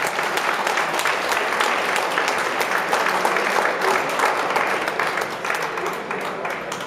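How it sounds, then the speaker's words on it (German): Steady applause from an audience at an amateur boxing event, honoring two girl boxers after their bout, filling the whole stretch with dense, even clapping at moderate level. "Bitte um Applaus für beide Kämpferinnen."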